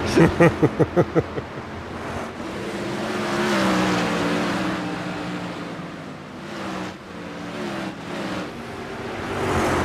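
Silver Crown race car engines roaring in an iRacing sim race at USA International Speedway, a loud rhythmic pulsing burst at the start, then a sustained engine drone swelling and fading as cars pass, with no talk.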